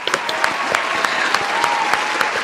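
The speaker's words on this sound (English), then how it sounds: "Round of applause" Crowd of 49ers fans applauding loudly after a victory, steady dense clapping with a few sharp cheers poking through, sustained throughout.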